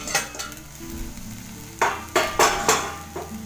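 Okra (bhindi) sizzles in a hot pan while a spoon stirs it, giving a steady frying hiss broken by several sharp, close scraping strokes in quick succession; no talking.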